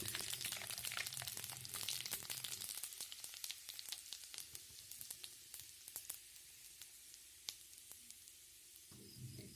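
Panch phoran spices sizzle in hot oil in a wok, a bright close crackle and spitting that is loud at first and then settles into scattered pops and softer frying hiss, with no voices.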